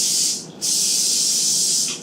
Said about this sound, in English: And if you spray from a distance, it spreads out evenly.